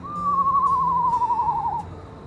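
A screech owl gives a single drawn-out, slightly descending whistled call that ends in a quavering trill, clear and fairly close against a quiet background.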